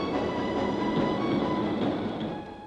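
Electric locomotive hauling a train up a steep gradient, with another engine pushing from behind, rumbling steadily and fairly loud with a continuous rolling roar that eases slightly at the end.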